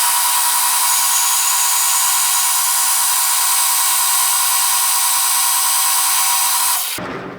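Carbide cutter in a high-speed rotary tool grinding a car shifter part, a loud, steady high-pitched whine and buzzing grind lasting about seven seconds before it stops abruptly.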